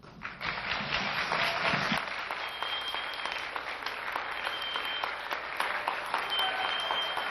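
An indoor audience at a Korean classical-music lecture concert claps loudly and steadily, a dense sustained round of applause that fills the whole stretch without pause.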